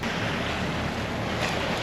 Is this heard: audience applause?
no